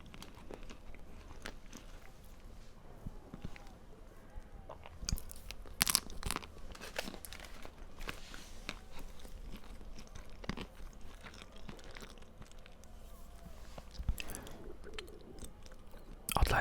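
Crunchy bites and chewing of partly thawed Jaffa cakes, close up and fairly soft, with irregular crisp crunches scattered through a low, steady background and a few sharper bites standing out.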